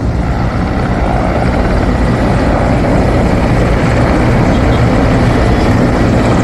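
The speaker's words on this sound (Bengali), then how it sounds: "একটার পর একটা হেলিকপ্টার আসতেছে" Military helicopters fly over during a Victory Day air show, their rotors a loud, continuous, dense roar that fills the whole stretch without a break.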